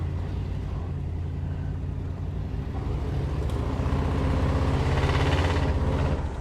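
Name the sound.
1956 Mercury Monterey engine running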